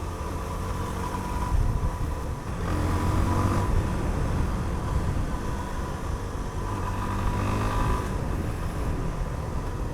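Suzuki DR-Z4SM dual-sport motorcycle being ridden: a close, steady engine drone with wind rush, the pitch rising and falling through gear changes and throttle shifts, no talk over it.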